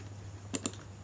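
Two quick clicks from a computer keyboard shortcut being pressed, close and faint, over a steady low hum with no talking.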